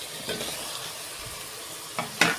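Masala frying in a pan with chopped tomatoes and green chillies sizzles softly and steadily, broken by a few sharper stirring scrapes and clinks near the end, close by with no talking.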